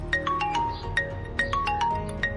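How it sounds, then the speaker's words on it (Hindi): Mobile phone ringtone ringing, a repeating bright electronic melody of short plucked notes, close and moderately loud with no talk. "ये तो भाई का फोन है"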